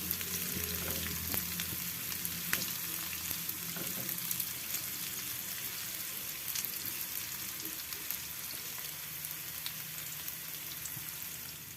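Onions and garlic frying in a pan for a stir-fried oyster mushroom dish, a continuous crackling sizzle with occasional stirring taps and scrapes, close and moderately quiet throughout.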